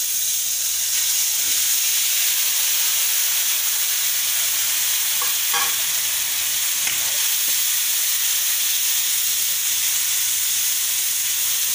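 Pineapple pieces sizzle in a hot pan with mustard seeds and coriander while a pineapple gojju chutney cooks, a steady dense frying hiss throughout with a few faint stirring clinks.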